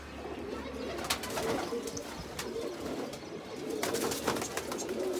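Pigeons coo softly in a steady, overlapping murmur, with scattered small chirps and light rustling over the background, moderately close and without any talk.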